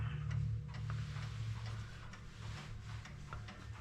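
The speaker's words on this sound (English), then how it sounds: "Okay, calendar clocks." Several calendar clocks tick steadily together in a quiet room, a soft, regular tick-tock over a low background hum with no speech.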